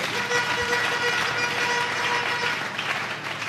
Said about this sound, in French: Acclamons très fort pour le Lord